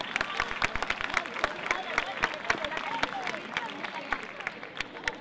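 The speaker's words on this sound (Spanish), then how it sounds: "Esa torre se merece un aplauso más fuerte," Applause from a crowd at a festival proclamation of the majas in 2017, dense patter of clapping throughout with a few sharper individual claps standing out, steady and moderately loud.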